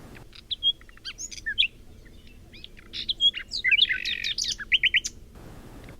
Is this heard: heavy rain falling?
no